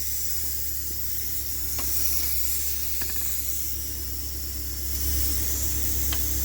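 An HTZ tractor with a Cummins 8.3 engine hisses from its manual air pressure release, a broad steady hiss over the idling engine's low drone, with a few faint clicks.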